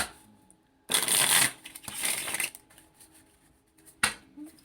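Tarot cards are shuffled in close, crisp riffling bursts, two long shuffles followed by a shorter flick as a card is drawn, with quiet gaps between.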